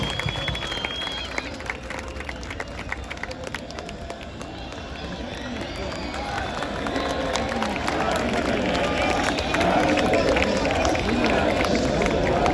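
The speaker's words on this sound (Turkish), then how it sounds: "Mert Günok için çok büyük bir alkış." Large stadium crowd at a Beşiktaş Turkish Cup championship celebration applauding and cheering, a dense roar of clapping that swells louder toward the end, with no distinct voices above it.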